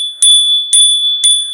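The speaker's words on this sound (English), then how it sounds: "I know a lot of you might just fast forward through the bell." A bell rung to clear energy strikes three times at an even pace, each bright metallic ding ringing on close and loud with a sustained tone between strikes.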